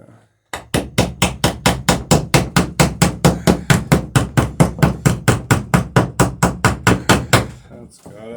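Hammer blows setting rivets on an Alpha Beachcomber boat under construction, about twenty-five sharp, evenly spaced strikes in a steady rapid rhythm, loud and close, with brief quiet before and after.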